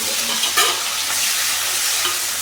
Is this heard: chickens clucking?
no